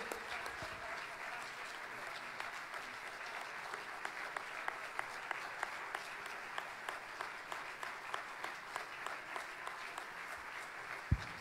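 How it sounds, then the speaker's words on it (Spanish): A church congregation claps together, soft and somewhat distant, with sharper rhythmic claps emerging as the applause goes on and faint voices in the background. "Vamos a llenar este lugar de aplauso porque tenemos la victoria en Cristo Jesús."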